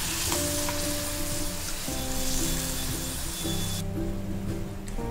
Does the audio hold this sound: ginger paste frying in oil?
yes